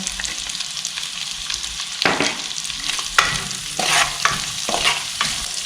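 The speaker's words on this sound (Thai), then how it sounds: "เสร็จแล้วก็ปรุงรสเราจะผัดแบบแห้งๆค่ะ ใส่เกลือนะคะ" Boiled potatoes being stir-fried dry with salt, a spatula scraping and tossing them in a pan about five times in irregular bursts over a continuous sizzling hiss, loud and close, with no voices.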